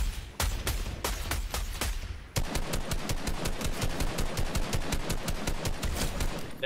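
Rapid automatic gunfire in a video game: a few spaced shots, then a long, steady burst of evenly timed rounds at moderate distance, with no talking.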